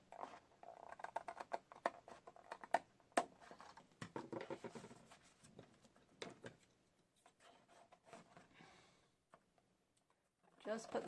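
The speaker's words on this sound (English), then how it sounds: "Just put the scissors right up next to the index card. So that's my guide cutting." Scissors snip around the edge of an index card being altered for a junk journal, giving a run of short rasping cuts with quieter stretches between, under a person talking.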